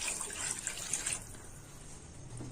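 Tomato-ground water splashes and pours steadily into a cooking pot for a couple of seconds, fairly faint and close, with no voices.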